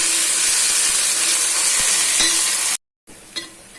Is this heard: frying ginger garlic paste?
yes